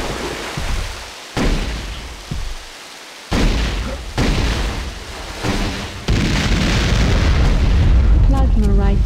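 Plasma rifle shots and heavy booming explosions from Tribes 2 gameplay, repeated loud bursts at irregular intervals ending in a sustained roaring blast, with voice chat mixed in.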